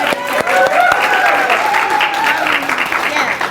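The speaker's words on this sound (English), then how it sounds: "So yeah, give a round of applause." Applause from a coaching institute audience, a loud, steady patter of many clapping hands that holds for several seconds, with a voice speaking over it.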